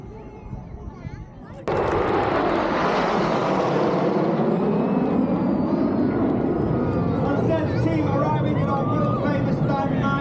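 Red Arrows jet display at the Midlands Air Festival, Ragley Hall: a sudden loud roar as the jets arrive, then a sustained broad jet rumble with shifting pitch and a sweeping pass, close and powerful, filling the air.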